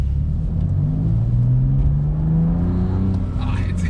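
BMW M2 Competition engine running with exhaust valves closed, a steady low drone with a slowly rising pitch, loud and close throughout, and no cracks or pops.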